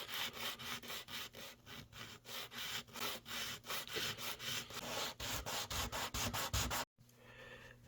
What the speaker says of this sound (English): Just with that little bit of sanding, this nut sort of fits a lot better into its slot.